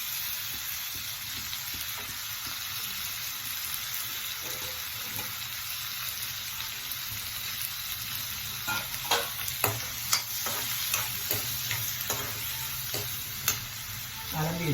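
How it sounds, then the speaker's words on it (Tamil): Drumstick leaves and chutney ingredients sautéed in a pan, with a steady sizzle and frying hiss throughout and a run of sharper stirring scrapes and clinks toward the end, no voices. "நல்லா எல்லாத்தையும் வதக்கிக்கலாம்"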